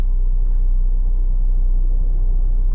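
A 2001 BMW X5 3.0L with a cylinder 6 misfire and catalyst efficiency codes cruises along, giving off a steady, continuous low engine and road rumble with no talking.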